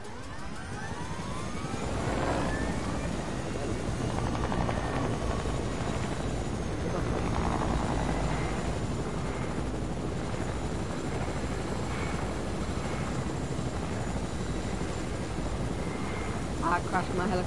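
A helicopter in a multiplayer shooter video game flies with a continuous rotor and engine drone, steady and fairly loud, under excited talk from players.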